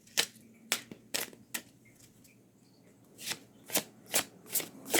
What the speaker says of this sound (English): I'm going to start with my Mabin deck, the Oracle deck today, and I'm going to pull 3 cards.